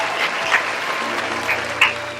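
An audience clapping loudly at a Mother's Day event, a dense, even burst of many hands applauding together throughout, close and sustained, with a few sharper claps standing out.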